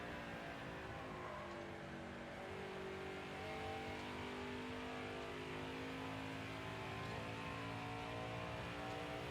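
NASCAR truck engine racing in NASCAR Heat 5 on the Iowa or Chicagoland track, a sustained, steady high-revving drone with layered engine tones, moderately quiet and even, no talk.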